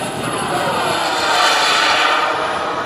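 A Carf Models Bolt turbine jet model airplane roars past at an airshow, a loud, steady jet whine with a gentle swell and fade as it passes.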